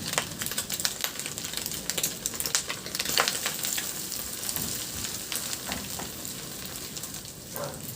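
Salted egg fries with onions in a hot pan, giving a steady close sizzle with crackling pops and the occasional clink of stirring.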